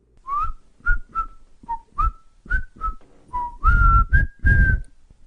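A melodic whistled tune of short, clear notes, some held longer, repeated in a steady phrase with a few louder passages; no talking.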